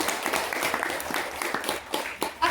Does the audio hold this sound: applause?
yes